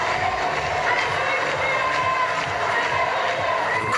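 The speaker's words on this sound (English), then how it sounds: "The crowds have turned out in force." Dense crowd noise at the Olympic flame's arrival in Marseille, France, a steady roar of many voices and cheering held at an even level for the whole stretch, with scattered louder shouts rising out of it.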